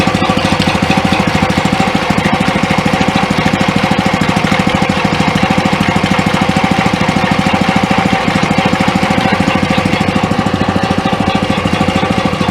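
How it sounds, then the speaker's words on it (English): A Warne chemical sprayer's small engine runs loud and steady with a rapid, even chugging rhythm, close by, with no voices over it. "We'll shut off the engine."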